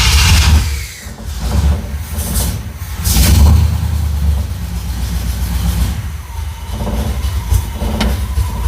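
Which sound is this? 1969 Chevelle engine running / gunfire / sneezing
1969 Chevelle engine running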